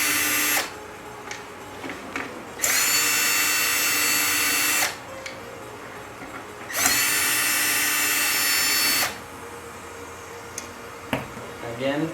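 A power drill backs screws out of the front lens retention ring on a Chauvet Q-Spot 260 LED moving-head light, two long steady whirring bursts of a couple of seconds each, close and loud, with quiet handling noises between.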